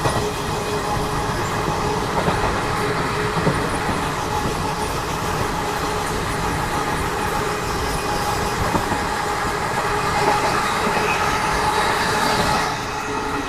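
The Garib Rath Express runs from Chennai to Delhi as it overtakes the Kerala Express. Heard from inside, it gives a steady loud rumble and rhythmic wheel clatter that carry on unbroken throughout.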